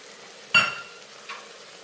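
Mint and coriander dropped onto fried tomatoes for bagara rice, giving one short burst of sizzling around the half-second mark and a fainter second hiss near the end, with low background crackle.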